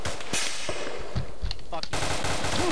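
Loud, steady machine-gun fire in a military video game, with continuous bursts of close and distant shots filling the clip and a voice briefly under the shooting.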